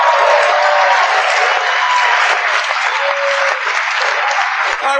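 A stand-up comedy audience breaks into loud, sustained applause, a dense wash of clapping with faint crowd voices in the room.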